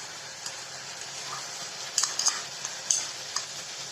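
Onion paste is stirred in a frying pan for a black-eyed pea dish, with a soft sizzle under a few sharp scraping clicks of a utensil against the metal.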